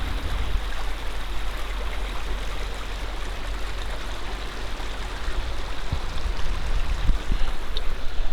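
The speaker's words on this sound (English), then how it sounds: "Nice creek running through here." A creek flowing through an RV park bridge area in Canyonville, Oregon gives a steady, broadband rushing of water, continuous and moderately near, with low rumble and no talking.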